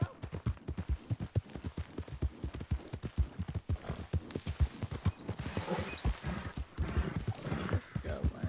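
Horse hooves clip-clop in a steady run of sharp, close thuds throughout the scene from Red Dead Redemption 2, a Wild West video game, with brief creaks and a faint whinny blending in.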